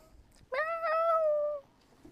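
A house cat gives one clear, drawn-out meow lasting about a second, close and alone in an otherwise quiet room.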